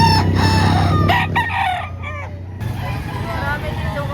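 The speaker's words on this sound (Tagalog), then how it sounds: "Marami dito mga manok." Roosters and chickens at a poultry market in Lipa, Batangas, one loud close crow rising and falling, then scattered clucks and other crows with market bustle and a voice in the background.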